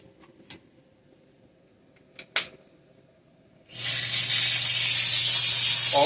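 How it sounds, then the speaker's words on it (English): A Dupray Neat Plus steam cleaner sits quiet with a few clicks and a sharp tick, then suddenly releases a loud, steady, close hiss of steam that runs to the end. "oh yeah, there's your steam."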